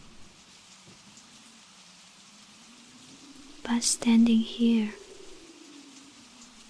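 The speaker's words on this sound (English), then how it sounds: "with the rain tapping against the umbrella and everything else sounding so far away, it's kind of hard to pretend" Rain taps steadily on an umbrella as a soft, even background patter. A close, quiet voice speaks briefly over it.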